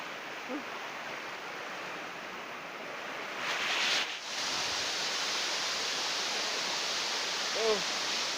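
The river and waterfall at Curug Cileat in Subang roar as a steady, dense rush of falling water, loud and continuous, with a brief shift midway and faint voices barely poking through.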